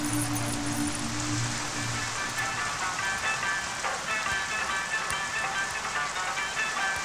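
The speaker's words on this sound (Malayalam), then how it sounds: "എന്തൊരു മഴയത്." Heavy rain pours steadily outside a government school, giving a dense, constant hiss with a faint low hum at the start, fairly quiet and with no talk.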